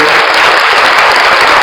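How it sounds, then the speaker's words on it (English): Audience applause at a talk analysing the Union Budget, a dense steady wash of clapping that fills the whole moment at full loudness with no pauses. "that demands a clap"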